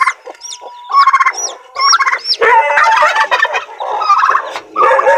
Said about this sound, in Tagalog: ang dami natin mga sisiw